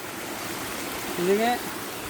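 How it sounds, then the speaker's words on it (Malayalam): Water flows down an artificial stone-layered waterfall at Poomala dam, a steady moderate rush with a brief voice rising over it. "ആർട്ടിഫിഷ്യലായിട്ടുള്ളൊരു വെള്ളച്ചാട്ടം തോന്നുന്നത്"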